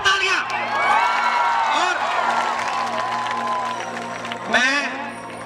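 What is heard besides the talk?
live show audience applauding and cheering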